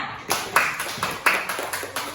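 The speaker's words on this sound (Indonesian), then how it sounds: "Berikan tepuk tangannya." Classroom applause for the Melati student group: a short burst of scattered hand claps and taps from a small group of pupils, uneven and fairly close, fading after about two seconds.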